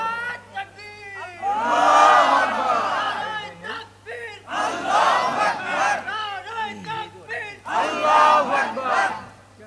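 A crowd gathered for an Islamic sermon roars the takbir in unison, three loud surging shouts of Allahu Akbar with short pauses between them, a mass of voices swelling and fading each time.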